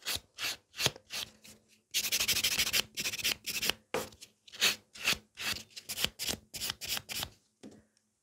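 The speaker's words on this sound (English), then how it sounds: "So just buff them nice." A nail buffer rubs back and forth across fiber gel nails in short, quick strokes, dry scratchy bursts with brief pauses between them, close and fairly quiet with no talking.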